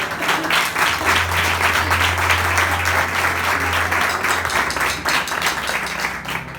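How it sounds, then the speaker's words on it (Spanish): A church congregation breaks into strong, sustained applause during a Spanish-language service, with dense clapping filling the whole stretch over a low steady hum. "Denle un fuerte aplauso al Señor."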